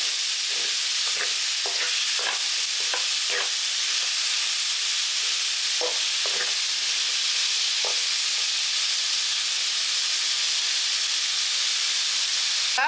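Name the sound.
vegetables sautéing in a pan for lunch box rice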